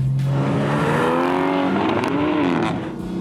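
A BMW M4 F82 accelerates hard on an airstrip, its engine note climbing through rising revs close by and loud, with a brief tire squeal and no talk.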